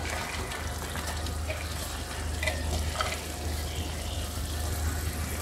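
Semolina halwa with almonds and raisins is stirred in a hot pan, making a steady close sizzle with soft scraping and stirring textures, with no voices.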